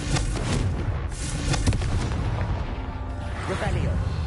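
A Confringo spell explosion in Hogwarts Legacy, a loud burst of booming blasts and crackling bangs over a few seconds, with a voice heard over it.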